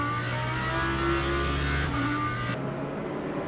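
Race car engine from the Le Mans Ultimate racing game, with a BMW on track, droning loud and steady throughout with a sustained note that drops in pitch partway as the car comes off the throttle.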